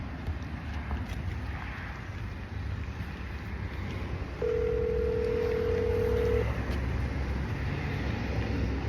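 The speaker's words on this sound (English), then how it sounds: "let me give Sam a call back so y'all can hear the aftermath of what we about to do" A telephone gives a single steady electronic tone lasting about two seconds as a call is placed, heard midway over constant windy, engine-like background noise.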